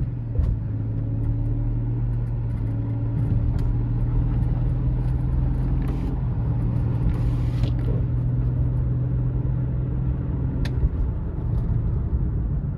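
A $400 BMW 525i with a bad tie rod, freshly fitted bearing and new plugs drives out onto a main road, its engine and road rumble holding a steady, loud low drone throughout with no talking.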